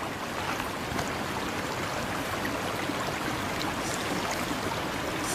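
Water splashing as someone swims at night, a steady rushing wash of churning water, loud and continuous with no voices.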